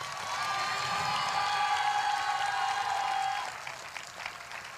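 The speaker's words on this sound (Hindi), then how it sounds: "आज आपकी तालियों की गड़गड़ाहट को सुन सकें" A congregation at a prayer service applauds and cheers in a thick, sustained wash over a held musical tone, then the clapping thins and fades after a few seconds.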